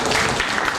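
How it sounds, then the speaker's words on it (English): A seated audience at an event claps briefly in honour of a man's 89th birthday, making a short, dense burst of applause with no voices. "I think we owe him a clap."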